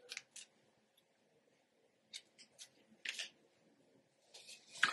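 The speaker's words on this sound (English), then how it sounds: "I'll cut the lace in four and do like this" Several crisp scissor snips cutting wig lace, close and sparse, coming in small irregular clusters with quiet gaps between them.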